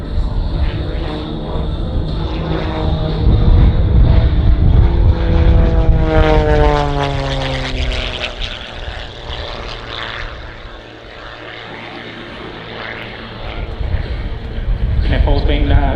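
A propeller aerobatic aircraft flown solo at the Avalon Airshow roars continuously through a full-rudder double turn, its engine pitch sweeping up and down as it rotates, with a commentator talking over it throughout.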